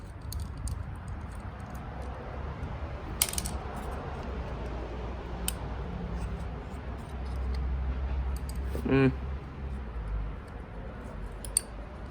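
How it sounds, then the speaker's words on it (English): Screws being taken out of the plastic fan shroud of a cheap bubble machine, faint small clicks and ticks of a screwdriver and parts over a low steady hum, with a brief metallic rattle partway through and no speech. "Now we're gonna remove these screws holding the fan shroud in place."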